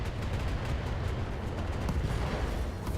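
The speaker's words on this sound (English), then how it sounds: "SRM explosion." SRM short-range missile explosion in the mech combat video game BattleTech, a dense rumbling burst of blasts and crackling impacts lasting a few seconds, fairly loud with no talk.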